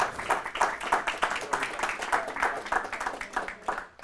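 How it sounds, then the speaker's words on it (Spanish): A church congregation claps for the Lord during a Bible study, the clapping fairly quick and rhythmic, close and moderately loud, with voices mixed in throughout. "Dale un aplauso al Señor."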